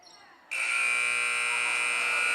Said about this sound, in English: She gets it to Hinkle, who puts up a quick one before the buzzer.